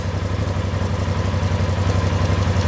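A side-by-side's steady, low engine idle rumbles continuously with a faint mechanical clatter, sounding close and slightly echoey inside a garage.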